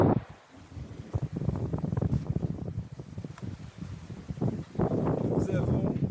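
Strong apparent wind of about 40-50 rushes past a sailboat under way, a steady loud buffeting roar with gusty surges, while someone speaks over it.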